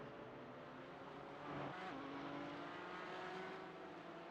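Race cars at Tsukuba circuit cross the finish line in a club race, a steady distant engine drone that swells briefly as a car passes, then settles back to a constant hum.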